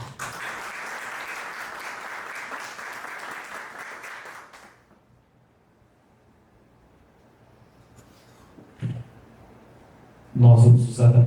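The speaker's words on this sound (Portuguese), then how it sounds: "Mais uma salva de palmas" An audience at a general assembly applauds steadily for about four seconds, then the room goes quiet with faint rustling, followed by a short burst of loud close sound at the end.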